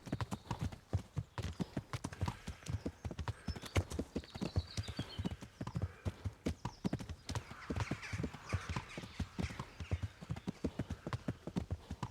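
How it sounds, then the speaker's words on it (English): Horse hooves clip-clop in a steady, fairly close rhythm throughout, with a brief whinny partway through and no talk over it. "This is a very expensive horse."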